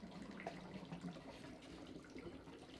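Dry ice gurgles in warm water, a quiet, continuous bubbling and burbling with small irregular pops, heard alone without speech.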